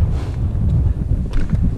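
Wind on a Welsh mountain ridge buffets the microphone in a steady low rumble with gusty swells, close and fairly loud, with no talking.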